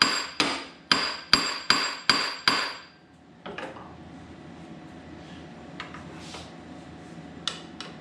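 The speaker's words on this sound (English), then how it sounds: "Start with our baby hammer" A small hammer strikes metal gear teeth on a 1947 Ford truck's flathead engine, seven sharp ringing blows in quick succession, then a quieter stretch with a few faint knocks and shop noise.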